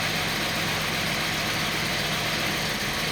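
A vintage Datsun 280Z engine idles rich with one spark plug lead pulled, a loud, steady, rough rumble with a constant hum and no speech.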